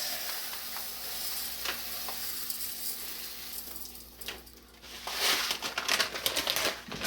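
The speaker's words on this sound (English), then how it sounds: "This is when we're gonna go ahead and add the rice." Jasmine rice is tipped into hot grease, setting off a bright, crackling sizzle that builds near the end as the grains are stirred and scraped around the pan.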